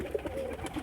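Pigeons in a loft, including a large Roza breed bird, murmur with soft low cooing and faint wing shuffles throughout, close and steady with no talking.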